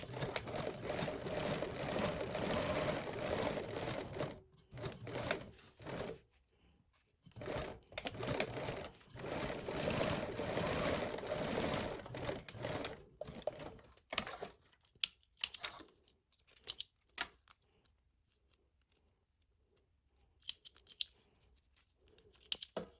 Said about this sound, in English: Now you're going to top stitch along that folded edge with a 1/8 seam allowance.